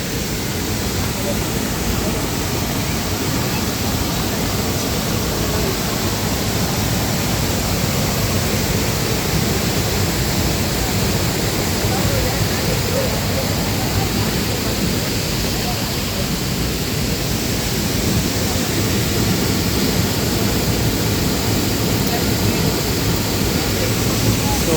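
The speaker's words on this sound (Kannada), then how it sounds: "ಹಿರಣ್ಯಕೇಶಿ ಫಾಲ್ಸು." Hiranyakeshi waterfall at Amboli in the monsoon roars as a dense, unbroken wash of falling water, loud and steady across the whole stretch with no gaps.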